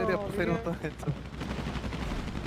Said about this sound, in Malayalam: വെടിയും പോയി